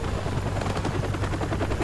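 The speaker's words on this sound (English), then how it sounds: "Oh shit, the chopper." Helicopter in the video game Modern Warfare Remastered, a loud near rotor with a rapid rhythmic thudding chop over a low steady hum.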